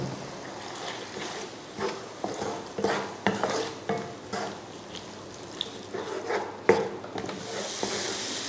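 Spoon stirring beaten egg through chicken fried rice in a pan, with irregular scraping and clinks of metal on the pan over a soft sizzle, close and steady, no voices.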